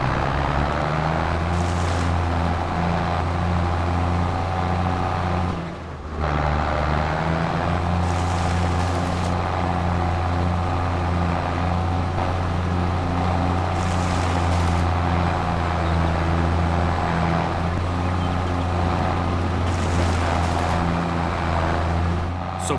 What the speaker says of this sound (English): We are going to fire this thing up and then go ahead and grind this first stump all the way down